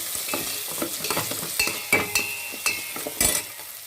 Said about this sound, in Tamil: இப்போது வெங்காயம் தக்காளி எல்லாம் நல்லா வதங்கிருச்சு